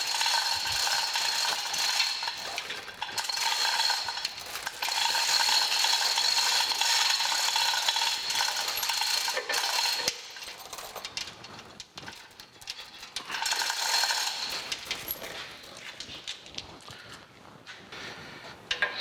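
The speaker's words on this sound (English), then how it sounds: "I got the gantry crane suspended over this. Got the motor hanging from the hook," A gantry crane hoist lifting an electric motor on its hook during a metal planer restoration, producing repeated mechanical ratcheting and clanking in long bursts with short pauses, close and fairly loud, with no speech.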